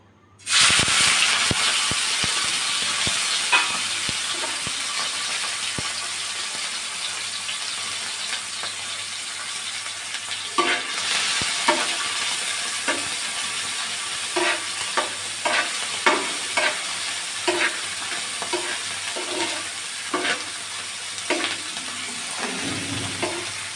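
Prawns frying lightly in hot oil in a home kitchen pan, a steady loud sizzle and hiss throughout, broken by occasional stirring scrapes and spatters.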